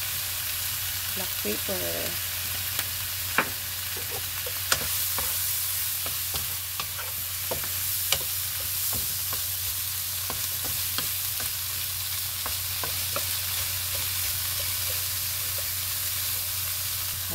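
Shrimp fry and get stirred in a pan with a steady sizzle and scattered scraping clicks from the utensil, recorded close and continuous under a brief spoken word.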